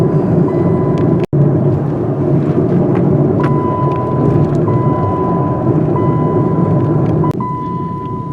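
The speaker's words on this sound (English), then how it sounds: "little bit of wheel bearing noise there to help determine which one it is" Steady low droning hum of a Chrysler 200 driving on the road with a worn front wheel bearing, a continuous rumbling growl under tire and wind noise, with a faint whine and one brief dropout.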